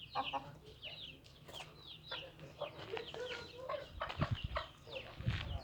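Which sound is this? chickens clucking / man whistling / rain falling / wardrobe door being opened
chickens clucking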